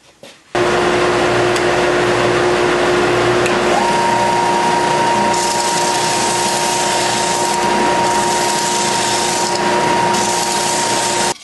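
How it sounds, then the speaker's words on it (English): A loud oscillating belt sander runs steadily, its motor whine holding one pitch and then a second tone joining, as it smooths the edges of a natural-edge wooden round, close and continuous after a brief start. "I'm going to use my oscillating belt sander"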